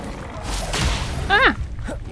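A fire spell cast in the video game Hogwarts Legacy: a soft whooshing burst followed by a brief rising-and-falling magical flourish, moderately loud over faint background game ambience.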